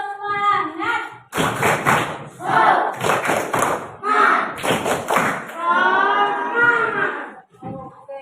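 A primary school class performs a rhythmic clapping routine, with sharp bursts of claps in a steady pattern as the pupils chant loudly together.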